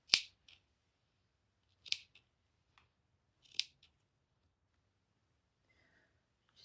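Scissors trimming the end of a fabric tassel for a Halloween costume: three crisp close snips about a second and a half apart, each with a soft click of the blades, in a quiet room.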